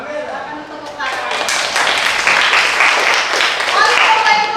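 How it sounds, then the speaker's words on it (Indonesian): A high school class claps together, a dense burst of applause rising after a moment, with voices mixed into it. "Akan tepuk tangan."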